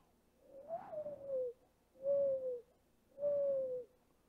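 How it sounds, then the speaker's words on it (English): A dove coos three times outdoors, each mellow, hooting coo drawn out and evenly spaced, fairly faint with a quiet background and no voices. "But doves, you ever hear them? You ever hear them out there?"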